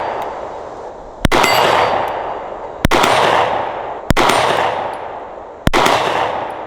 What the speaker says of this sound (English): I'll go for one of those small targets, see if we hear a big ding